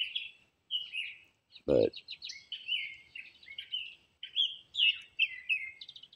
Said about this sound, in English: hear the mockingbird song